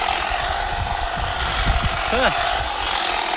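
An AL-KO HT 1845 18 V cordless hedge trimmer cutting grass outdoors, a continuous buzzing motor whine held close and loud throughout, with a brief voice exclamation partway through.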